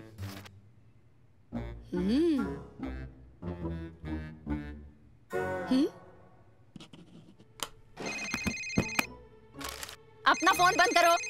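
A cartoon telephone rings in short bursts of bright electronic tones near the end, after stretches of cartoon character voices and effects.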